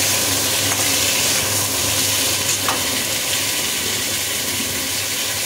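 Potatoes fry in a pan with salt and turmeric, a loud, steady, close sizzle that stays constant throughout with no voices.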